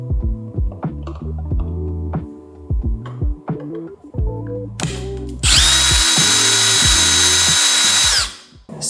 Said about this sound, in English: What I'm going to do is just try to drill them out and just break them apart.